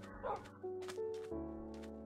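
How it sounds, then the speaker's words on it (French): Pet wolves in the Minecraft video game, in a desert with cactus, give a few short barks and yips over a sustained tonal game background. "Attention, les chiens, on est dans le désert, il y a des cactus"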